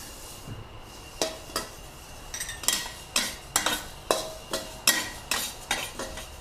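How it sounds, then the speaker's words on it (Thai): White sesame seeds dry-roasting over low heat in a pan, heard as a run of sharp, evenly paced scraping and clinking strokes from stirring, close and fairly loud, with a faint sizzle between them and no talk. "คั่วงาขาวให้เหลืองหอมเลยค่ะ ใช้ไฟอ่อนในการคั่ว"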